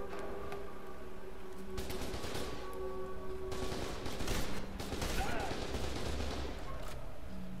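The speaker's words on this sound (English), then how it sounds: "Ooh, single shot." Single shots from a G36C rifle in the shooter game FEAR 2, cracking repeatedly over a dense, steady wash of game noise and background sound throughout.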